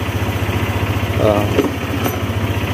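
A Motorstar ADV 175 scooter engine idles steadily after a dirty switch was cleaned and sprayed, a close, even low putter with brief bumps in the middle and a faint voice mixed in.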